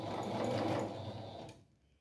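A sewing machine stitching patchwork rug fabric, a steady close mechanical whir that runs for about a second and a half, then stops and leaves a faint room tone.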